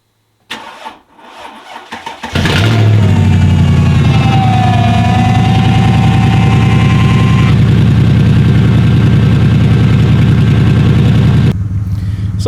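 A 2004 Mercedes CLK55 AMG cranks with a few short whirs, then catches and roars to life loud and close. It settles into a deep, steady idle, with a brief whining tone partway through, and the idle cuts off near the end.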